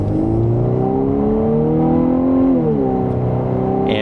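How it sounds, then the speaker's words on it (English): A 2026 Volkswagen Atlas SE accelerates hard in sport mode with the pedal floored, its engine drone climbing steadily in pitch from inside the cabin, then dipping briefly at a gear change before rising again. "that is an acceleration with pedal to the floor up to speed"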